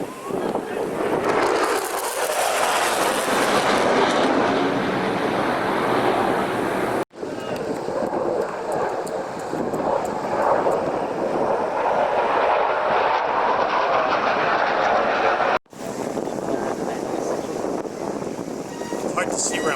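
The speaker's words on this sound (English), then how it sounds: "Next coming up is the F16s." F-16 fighter jets flying at an outdoor air show, a loud sustained roar with heavy wind buffeting the microphone, steady throughout with two brief cuts, and people talking faintly underneath.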